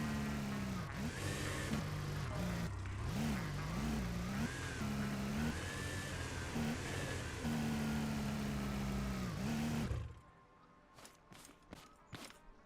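A vehicle engine set to maximum power in the Scrap Mechanic video game revs and whines in wavering surges for about ten seconds, then cuts out, leaving faint clicks and knocks.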